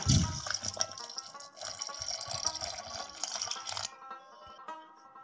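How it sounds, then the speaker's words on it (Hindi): Milk pours from a glass into a jug while a strawberry milkshake is being made, a steady close liquid splash for about four seconds that then drops to quiet. "दूध भी हमने जग के अंदर डाल दिया है"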